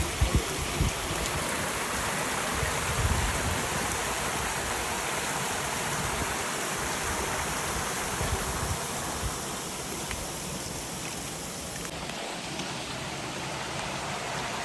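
Water gushes nonstop from a broken household pipe during the monsoon: a steady, dense rushing hiss like a stream or heavy rain, close and even throughout, with no voices.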